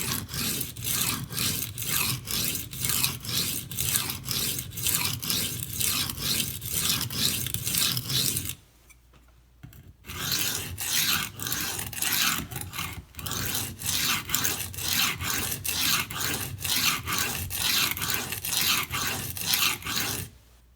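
Knife blade sharpened on a coarse Manticore stone for a V-bevel, with fast, steady rhythmic scraping strokes close up, a brief pause near the middle, then continued repetitive rasping with no talking.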